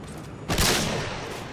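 A single loud sniper rifle shot in a first-person shooter game cracks out and then decays in a long, rumbling echo.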